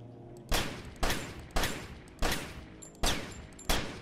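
Six sharp, loud gunshots from the game Only If, spaced roughly half a second apart, each fired at vases and followed by a short decaying tail, with no talking over them.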